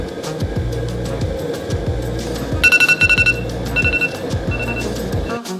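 Kitchen timer alarm goes off while potato slices cook for chips, a sharp rapid beeping in bursts that starts partway through, loud over ongoing stovetop background noise.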